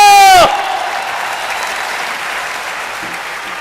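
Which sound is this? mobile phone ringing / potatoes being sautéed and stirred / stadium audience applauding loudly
stadium audience applauding loudly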